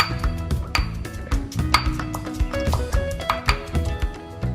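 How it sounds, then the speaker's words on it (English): Pestle pounding garlic and chili in a mortar for a spicy Thai corn salad, repeated close knocks with clinking, ringing tones. "Using a mortar and pestle, pound the garlic and the chili."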